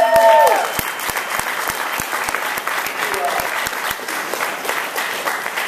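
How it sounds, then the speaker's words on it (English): An audience at a training event applauds for a man named Zeke, steady dense clapping over several seconds, with a voice cheering over the start and brief voices later. "let's give Zeke a round of applause"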